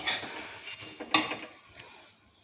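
Poha (flattened rice) being dry-roasted in a pan, with a few bright scraping, rattling stirs against the metal, the loudest near the start and middle, fading toward the end.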